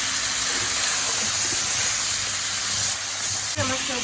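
Sweet potato, carrot, tomato and peas sizzle and fry in a pan, a steady dense hiss throughout with a brief soft clatter of stirring near the end.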